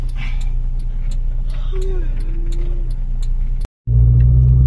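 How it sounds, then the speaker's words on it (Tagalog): A car drives along at night, the engine and road rumble steady and close from inside the cabin, briefly cut off before resuming louder, with faint voices in the background. "Galing naman ni Kuya Gab mag-drive"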